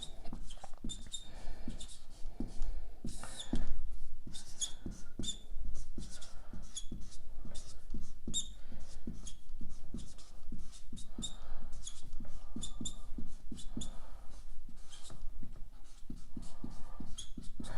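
A pen writes notes on a flower's structure for a biology lesson, with continuous scratchy strokes and taps in an uneven rhythm, close and fairly clear, heard alone for most of the stretch.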